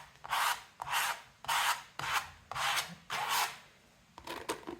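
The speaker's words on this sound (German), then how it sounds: "und spachtel einmal die Leinwand in den dunklen Ton" Palette knife dragging leftover brown acrylic paint across a canvas in six rhythmic scraping strokes, each a soft rasping swipe separated by short pauses, quiet and close.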